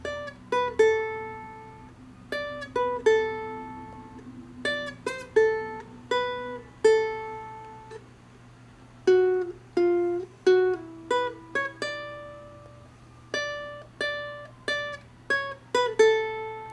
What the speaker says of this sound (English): So the entire melody section is going to sound like this.